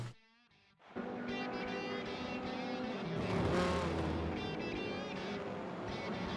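Race car engine in Forza Motorsport 7 at the Rio de Janeiro round, a steady loud engine drone that starts after a brief quiet moment and holds continuously, with rising and falling pitch as the car accelerates.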